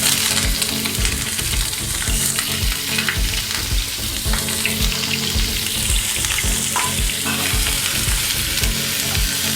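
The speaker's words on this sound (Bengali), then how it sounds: "এবার আমি এই গরম তেলের মধ্যে 2টো পেঁয়াজ, বড় সাইজের পেঁয়াজ কুচি দিয়ে দেব।" Two large chopped onions deep frying in hot refined oil in a frying pan, a loud, steady crackling sizzle with bubbling running continuously throughout.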